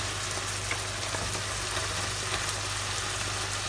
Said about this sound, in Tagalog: Maaari na po natin ilagay ang sibuyas.